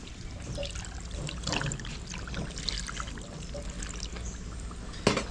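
Water poured into a cooking pot while a dish with carrots and black pepper is prepared, a steady close trickle and splash running throughout, ending in a brief louder knock.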